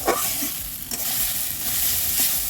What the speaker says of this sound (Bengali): দেখো মূলো ভাজা করতে শুরু করে দিয়েছি